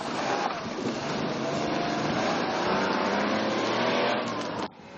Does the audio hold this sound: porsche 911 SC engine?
yes